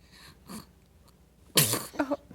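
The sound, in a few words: sneeze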